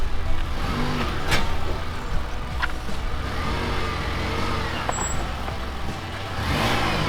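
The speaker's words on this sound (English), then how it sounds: "Big D spinning wheels." A four-wheel-drive vehicle spins its wheels on the dirt of the Finke Gorge track, a loud, continuous engine roar with grinding tire noise all the way through.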